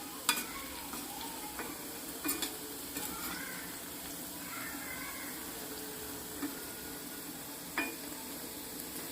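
Gobi 65, cauliflower pieces frying in oil in a pan, giving a steady sizzle with a few scraping stirs and clinks as they are turned, close and moderately loud with no talk.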